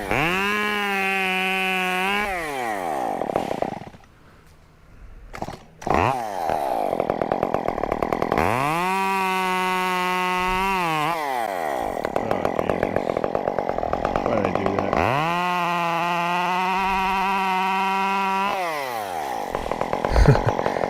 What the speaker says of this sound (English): So the chainsaw is jumping around. Like when I'm cutting, it's kind of stuttering.